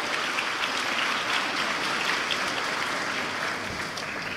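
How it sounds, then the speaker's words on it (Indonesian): Sustained audience applause at a university graduation ceremony, a dense even wash of clapping from a large crowd that holds steady for several seconds without a break. "Boleh beri tepuk tangan"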